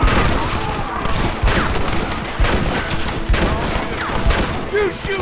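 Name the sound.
gunfire in the video game Red Dead Redemption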